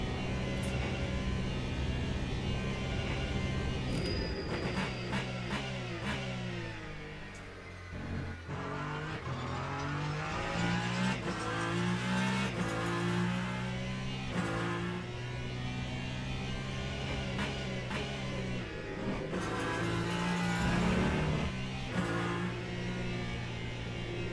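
Ferrari 499p hypercar at Fuji in the Le Mans Ultimate sim racing game: a loud, continuous engine note rising and falling through gear changes and corners, with a steady electrical hum beneath.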